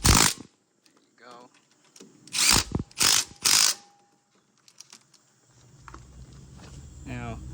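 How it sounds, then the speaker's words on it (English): A ratchet tightening a 14 mm brake caliper bolt on a Hyundai Sonata, three loud bursts of clicking close by, with someone speaking between them and low background noise after. "Put my two 14mm bolt back, tighten it down. I'm gonna tighten my caliper bolt."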